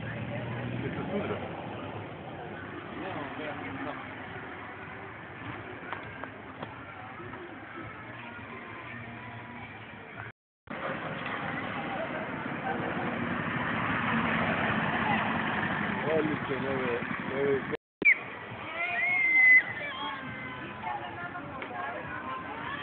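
A go-kart engine runs steadily at a karting track, a continuous mid-loud drone with two brief dropouts, while people shout and talk over it.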